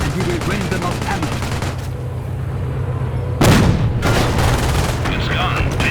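Gunfire and artillery in the World War II strategy game Company of Heroes during the Market Garden bridge assault: a steady roar of shots and booms, with a sudden loud blast partway through, under faint radio-style voices.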